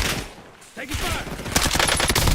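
Bursts of gunfire crackle in the Call of Duty Warzone video game, set in Verdansk, with rapid noisy shots under a dense game soundscape, growing denser toward the end.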